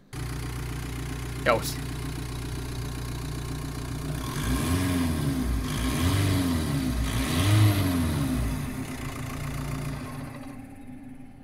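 A high-mileage Italian car's engine, about 400,000 km on the clock and rated 201 hp, idles steadily, then revs up in several swelling pulses before settling, with a brief voice and some short talk over it.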